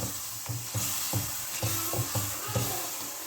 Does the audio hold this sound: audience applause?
no